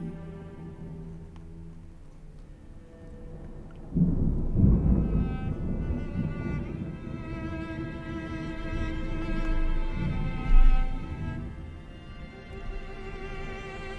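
Low thunder from a lightning storm rolls in and rumbles at moderate distance, swelling and fading over several seconds, with one sharper, louder crack near the end.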